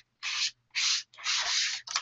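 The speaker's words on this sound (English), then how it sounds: "it looks like we're all going to get sprayed with MSC" MSC sealant aerosol being sprayed onto dolls: four sharp hissing bursts, close and loud, with brief silent gaps between them.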